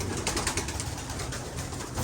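Pigeons coo continuously at close range in a pigeon loft, soft throaty burbling calls layered over each other with rustling, no speech.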